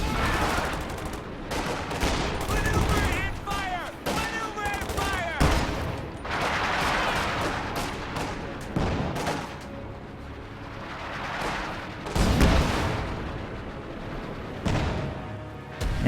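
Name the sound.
indirect artillery fire exchanged in a video game battle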